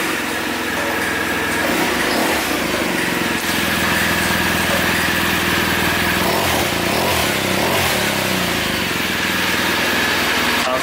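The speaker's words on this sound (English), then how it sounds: "I'm gonna turn this bike on so you can hear it" A 2018 BMW R1200 GS Adventure motorcycle engine runs steadily at idle, loud and close, a continuous rumbling drone that holds at a constant level throughout.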